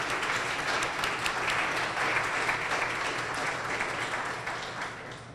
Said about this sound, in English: So let's everybody give them a round of applause.